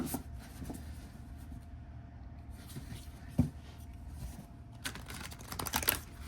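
Soft, dry riffling and tapping of thick tarot cards being side-shuffled, close by, with a few sharper clicks and no talking.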